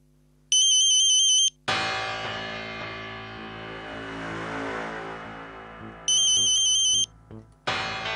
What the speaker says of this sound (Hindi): इसने फिर से कॉल करना शुरू कर दिया।